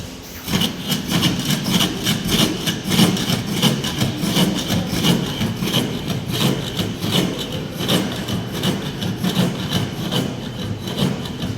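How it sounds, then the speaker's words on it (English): A jack plane smoothing a piece of wood in a carpentry workshop, giving loud, rhythmic rasping strokes that repeat steadily, close up and with no talking. "First we need to fix it in the jack and we should smoothen it using jack."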